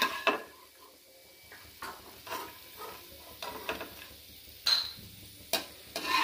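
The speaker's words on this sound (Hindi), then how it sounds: "बादाम को थोड़ा फ्राई कर लूँगी। फ्राई कर लेंगे इसे।" Almonds frying in oil in a pan for kanda poha, with a faint sizzle under intermittent scraping and clinking of a spoon against the pan, quiet and close.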